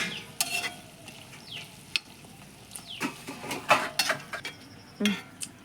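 Oil for homemade hair oil sizzles softly in a pan on a low flame, with scattered stirring clinks and scrapes of a utensil against metal, no voices.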